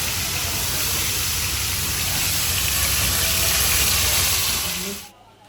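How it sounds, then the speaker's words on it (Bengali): Steady, dense hiss of hilsa fish frying at Mawa ferry ghat fills the clip, loud and close, with a faint voice-like murmur underneath before it cuts off abruptly near the end. "আর এখানে মাছ ভাজা হচ্ছে"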